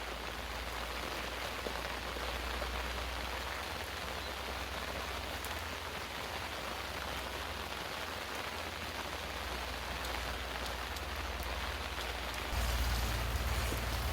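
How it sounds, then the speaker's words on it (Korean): Steady, dense rain pattering down across a vegetable garden's ground and foliage in Jeongseon, Gangwon Province, South Korea, constant and fairly loud throughout, with no voices. "비가 제법 오는데, 어, 비가 많이 오지만"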